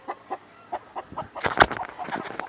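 Chickens on a small farm, hens and a rooster, clucking in short close bursts, with a louder cluster of calls toward the end and no talking.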